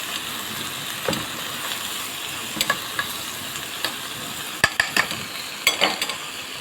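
Steady scraping stir of a kilo of plain white rice seasoned with salt and black pepper in a pot, a close continuous rasp broken by a few sharper clinks of the spoon against the metal.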